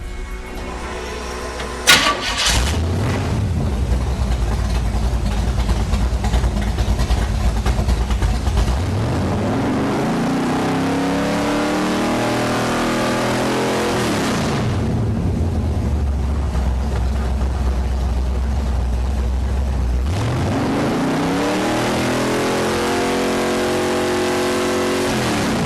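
A car engine fitted with an MSD 6AL-2 ignition cranks, catches with a sharp pop, and settles into a loud idle. It then revs up and down several times in slow sweeps, with no voices.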